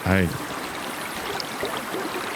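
Steady rushing river water as someone wades across it at night, a broadband wash that holds from start to end, with a brief voice at the very beginning.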